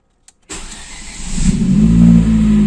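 A car engine cranks and catches after a brief silence, then settles into a steady, loud idle with rising low rumble, close to the listener; no talking.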